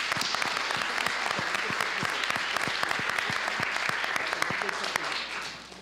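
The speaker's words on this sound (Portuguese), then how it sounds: "uma salva de palmas." An audience applauds at a physics tournament session in Brazil, a steady crackle of many hands clapping at close range that tapers off in the final second.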